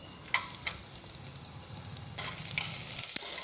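Carrot and cucumber sautéing in a pan, a soft continuous sizzle with light stirring scrapes and a couple of utensil taps, growing brighter and louder partway through, close and fairly quiet.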